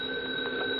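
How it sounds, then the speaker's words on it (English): A telephone rings in a bar, a steady electronic-sounding tone that holds at an even, fairly loud level through the whole short stretch, with no voices over it. "The phone keeps yapping all the time."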